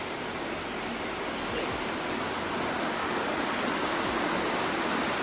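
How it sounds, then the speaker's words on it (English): A large waterfall in the Southern Highlands of New South Wales gives off a constant, dense rushing roar, steady and unbroken from start to finish. "That's the waterfall."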